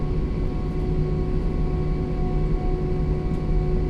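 An Airbus A320 taxiing in the flight simulator X-Plane 11: a steady, loud jet engine drone with even tonal whine and rumble, continuous and unchanging throughout with no talk.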